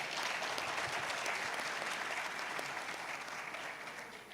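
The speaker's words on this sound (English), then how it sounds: "Please give him another round of applause." An audience at a satellite stakeholders' forum in Nigeria applauds, a fairly faint, even wash of clapping that holds steady and then begins to taper off.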